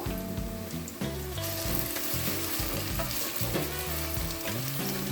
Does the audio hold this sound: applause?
no